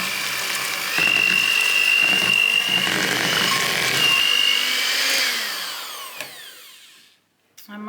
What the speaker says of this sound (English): Grab the mixer.